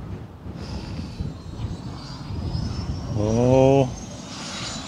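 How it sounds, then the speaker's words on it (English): The Great North Air Ambulance helicopter starts up in Blackpool, heard outdoors from a distance as a thin, rising turbine whine over steady background rumble, with a brief spoken exclamation partway through. "it does look like the helicopter will be probably taking off now"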